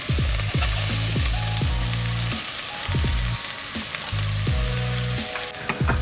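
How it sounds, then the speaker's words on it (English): Lentils tipped into a hot pan, setting off a loud continuous frying sizzle close by, with repeated low thuds and stirring knocks throughout. "I'm gonna go ahead and add in my lentils."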